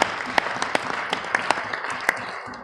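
Audience applauding at a German patriotic speech event, with distinct individual claps standing out over a steady wash of clapping that continues for a few seconds before the speaker resumes.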